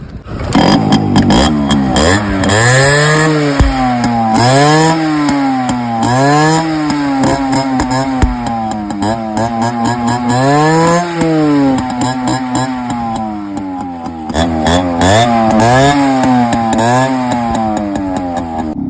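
A motorcycle engine starts and revs again and again, climbing and falling in pitch in repeated loud surges, close by, with no talking.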